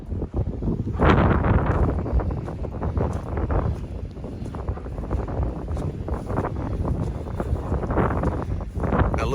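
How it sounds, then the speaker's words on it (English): Strong wind gusting across a lake, roaring steadily into the microphone for the whole stretch, with broadband buffeting and rumble and no talk over it. "Look at that wind blowing across that water."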